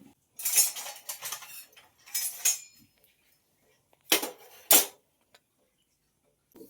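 Metal cookware clatters in a few sharp bursts, a pan set down with clinks and scrapes, separated by quiet pauses.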